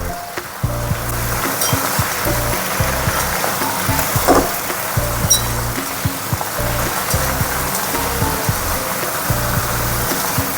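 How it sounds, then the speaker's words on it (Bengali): Potatoes, flat beans and eggplant frying in a pan, a steady broad hiss running throughout with faint scraping stirs now and then, heard alone at moderate loudness. "এবার ভালো মতন করে শিম, বেগুন, আলু ভেজে নেব।"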